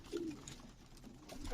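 Domestic pigeons kept indoors in a loft coo softly at a moderate distance, a few low throaty calls rising over quiet room ambience, no talking.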